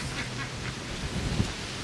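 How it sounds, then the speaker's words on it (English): A duck quacks a few times near a chicken tractor, short nasal calls heard close against steady outdoor background noise. "This is a duck."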